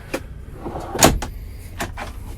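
A drawer in a truck sleeper cab is pulled open, giving several close knocks and slides, with one firm clunk in the middle and lighter taps before and after.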